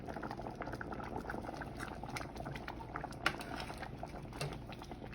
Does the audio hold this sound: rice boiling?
yes